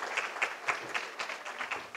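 An audience at the launch of a Thai tilapia association claps for the association's vice-president, who represents central-region cage fish farmers. The applause is steady and moderately loud, with individual claps standing out in an even rhythm for the whole stretch.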